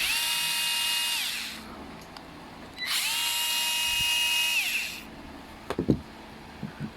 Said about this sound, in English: So let's remove the carburetor 2 screws.